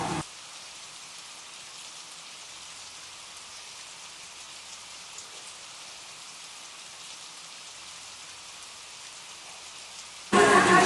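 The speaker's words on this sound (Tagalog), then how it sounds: "Talagang pinapakinggan ko na lang yung patak ng ulan." Rain falls outside, heard from indoors as a steady even hiss of drops with no voices, holding constant before a sudden louder burst at the very end.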